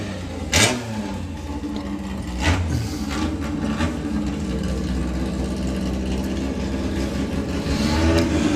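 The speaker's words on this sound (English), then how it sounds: "So, Lucas Dalgleish with the Beetle running in the 4-cylinder class this weekend." A Volkswagen Beetle drag car of the 4-cylinder class rumbles steadily at a doorslammer drag racing event, with a few sharp pops and bangs over the engine drone, heard at moderate distance.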